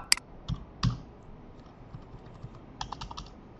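Typing on a computer keyboard: a short burst of crisp, close keystrokes, a few spaced-out taps, then a quicker run of clicks near the end, with no other sound.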